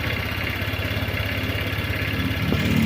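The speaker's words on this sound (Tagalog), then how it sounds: "So open lang po natin yung ating engine. Tapos start po natin." A motorcycle engine running at a steady idle close by, a loud, even mechanical putter with a slight clatter and no change in pace.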